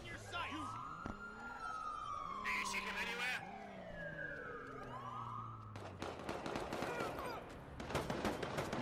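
Police and ambulance sirens wailing and yelping in a police roleplay video game, sweeping tones overlapping, followed by a burst of rapid gunfire-like crackle near the end.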